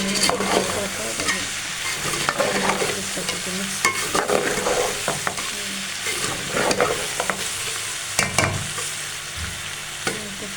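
Spice masala fries and sizzles in a pan while a spoon stirs it, producing a continuous hiss broken by repeated scraping knocks, close and fairly loud, for a homemade taro root (arbi) dish.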